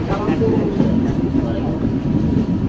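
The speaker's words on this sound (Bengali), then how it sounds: "এবার দেখুন পাহাড়ের ভেতর দিয়ে আস্তে আস্তে আমাদের ট্রেনটি চলেছে" A train moves slowly through hilly country, a steady low rumble of wheels and carriages close by with no voices.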